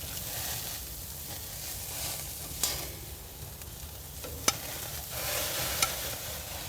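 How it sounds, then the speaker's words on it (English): Olive oil flares up on a Crown Verity barbecue grill, giving a steady broadband hiss with a few sharp, isolated pops and crackles spread across the stretch; no one speaks. "That's the olive oil flaring up."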